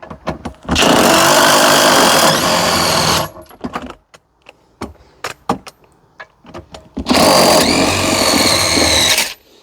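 An impact driver fires in two long, loud rattling bursts, with clinks and handling clatter between them as 3/4-inch bolts come loose from a Mercruiser marine engine.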